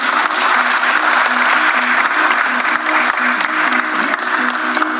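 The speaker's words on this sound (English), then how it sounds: "Let's have a huge round of applause for him, please." An audience at a stock exchange listing ceremony bursts into loud, sustained applause, a close, dense wash of clapping that runs unbroken for several seconds with no talk over it.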